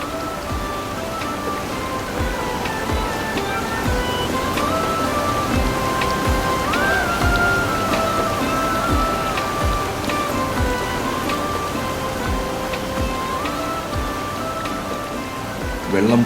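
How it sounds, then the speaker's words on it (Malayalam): Water of the Chalakudy river pours steadily onto rocks at Athirappilly waterfall, a dense, even rushing roar that continues throughout, with faint voices in the background. "വെള്ളം പാറയിൽ പതിക്കുന്നത് കേൾക്കുന്നതും"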